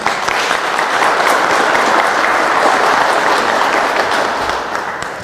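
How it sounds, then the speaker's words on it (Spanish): Sustained audience applause at a formal lecture ceremony, steady and dense for several seconds before tapering slightly at the end, with no talking over it. "la maestra Roselia Bustillo Marín, para quien pido fuertes aplausos"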